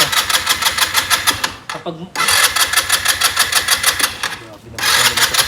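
A RUSI motorcycle on its center stand starts cold on choke and runs with a rapid, pulsing mechanical chatter, loud and close, with someone talking over it.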